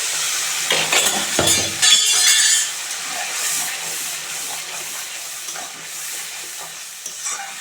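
Ginger, garlic, green chili and onion paste hits a hot pan for an egg curry, a loud burst of spattering and clinking at first that settles into a steady, hissing sizzle, with no speech.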